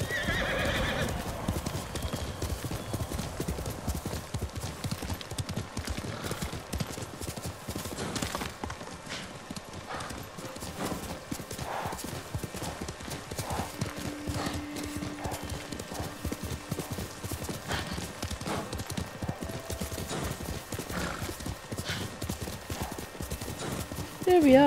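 A horse in the video game Ghost of Tsushima trots with steady clip-clopping hooves and gives a whinny, continuous hoofbeats under someone talking throughout.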